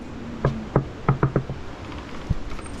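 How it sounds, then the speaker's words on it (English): Someone knocks on the heavy wooden door of Shigar Fort in Skardu, a series of sharp close raps in uneven clusters followed by a single later thud, with quiet background. "We do 3 knocks."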